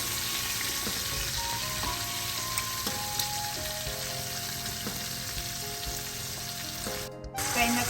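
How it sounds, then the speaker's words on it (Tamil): Prawns and squid sizzle in hot oil for seafood fried rice, a dense, continuous crackling fry heard close, with faint stirring clinks scattered through it. "இப்போ இந்த கணவாயை இதுக்குள்ள பொரிச்சு எடுக்கிறோம் போட்டு."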